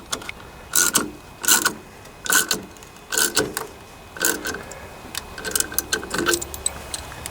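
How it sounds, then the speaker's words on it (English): A run of sharp, creaking metallic cracks and clicks as a pulley cracks under a puller on a Toro rear-engine mower, about nine bursts in a loose uneven rhythm, close and fairly loud with no talking. "Can hear that pulley starting to crack"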